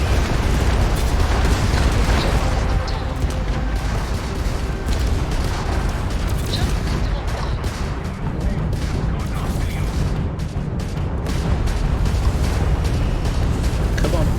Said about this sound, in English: Just spamming missiles.